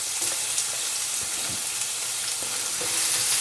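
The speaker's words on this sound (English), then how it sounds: "That sizzling sound is what we want." Carrots hiss and sizzle steadily as they are stir-fried in a hot wok for chow mein, a continuous close crackle with brief louder spits of frying.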